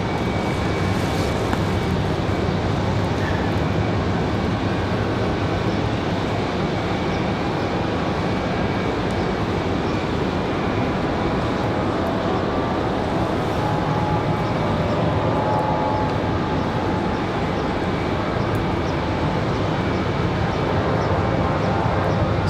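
A United Boeing 737-700 airliner departs Raleigh Durham airport on a snowy day, a loud continuous broadband engine roar that holds steady throughout, heard from a distance with no talk.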